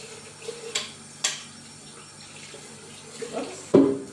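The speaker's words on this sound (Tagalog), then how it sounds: "maghuhugas naman tayo ng rice" Rice being rinsed in a sink under a running tap at home, with soft water trickling and a few sharp clinks of grains and a pot against the basin, louder splashes near the end.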